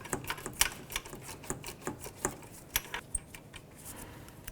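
Hand ratchet working a small 10mm nut loose on a Ford Focus engine: a quick series of crisp clicks in uneven bursts, close up and fairly quiet, with no talking.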